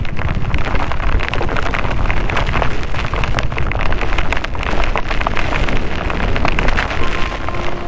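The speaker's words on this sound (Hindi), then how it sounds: "ये बहुत जोर की बारिश है" Dense, heavy rain roars steadily with gusty wind buffeting the microphone during a motorbike ride in a storm, loud and unbroken throughout.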